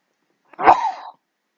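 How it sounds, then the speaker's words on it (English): A single sharp sneeze bursts out close by, brief and loud, then silence. "And I'm going to sneeze again."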